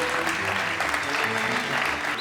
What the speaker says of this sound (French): Sous vos applaudissements, Estelle Catan,